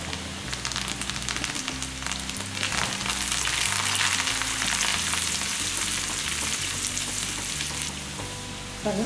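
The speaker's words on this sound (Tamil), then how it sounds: "ஒரு ஆறு பல் பூண்டு தட்டி ஏதாவது சின்ன சின்னதாக கட் பண்ணி வச்சுருக்கேன் இதை எண்ணெயில் பொரிச்சிடலாம்" About six cloves of crushed, finely cut garlic frying in hot oil, giving a continuous, loud, close crackling sizzle that holds steady throughout over soft background music.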